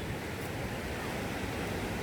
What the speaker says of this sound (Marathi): थोडासा वारा वाहू लागलेला आहे आणि पर्यटकांची बऱ्यापैकी गर्दी अलिबागच्या समुद्र किनाऱ्यावर आहे